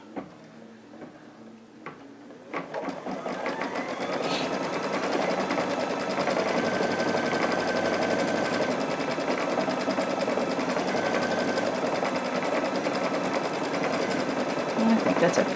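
An embroidery sewing machine stitching out a small, dainty design for a quilt, starting after a couple of quiet seconds and then whirring steadily with a fast, even mechanical rhythm, close and fairly loud.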